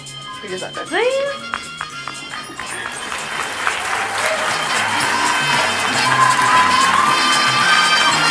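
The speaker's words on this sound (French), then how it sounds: "Je vais les applaudir." A high school gala audience claps for award winners at a secondary school merit ceremony, the applause building and swelling into sustained, slightly cheering clapping after some early scattered sounds and brief voices.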